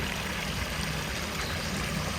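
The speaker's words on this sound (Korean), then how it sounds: "바로 집 앞쪽에도 이렇게 계곡물이 흐르고 있어요." Mountain valley stream flowing right in front of a country house surrounded by national forest in Yangpyeong, a steady, full rush of water that carries on without a break and with no voices.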